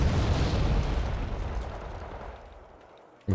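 Heavy mortar blasts in the video game Wargame: Red Dragon, a loud booming wash of explosions that slowly fades, with a fresh burst hitting right at the end; no talk.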